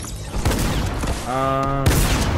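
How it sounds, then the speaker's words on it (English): Shotgun blasts in Fortnite Battle Royale, loud booming shots near the start and end with a tonal game effect ringing between them, all close and forceful. "Why is the shotgun so loud?"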